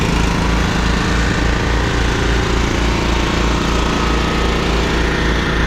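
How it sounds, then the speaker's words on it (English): Two 30-inch Toro TimeMaster lawn mowers idle steadily while warming up, one recently fitted with a new carburetor. Their engines give a loud, continuous, even drone with a low pulsing throb and no pauses. "I got a couple mowers out warming up."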